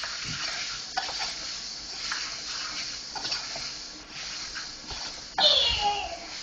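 Steady sizzling of carrots, celery, onion and pepper frying in a pan, with stirring scrapes throughout and a louder burst of sizzle near the end.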